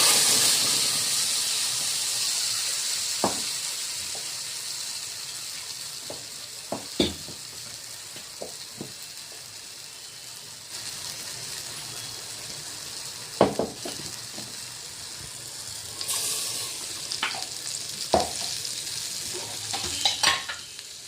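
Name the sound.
cumin and spice paste frying in hot oil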